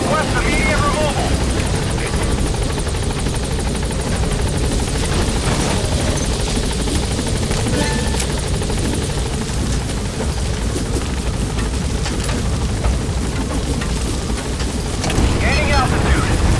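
Helicopter hovering over a landing zone in Metal Gear Solid 5, its rotor chop and turbine whine loud and continuous throughout, with a voice speaking over it.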